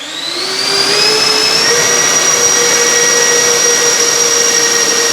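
Twin 70mm electric ducted fans on an FMS A-10 Thunderbolt II V2 RC jet spool up from idle into a loud, steady whine with rising tones that level off at high throttle, close and alone.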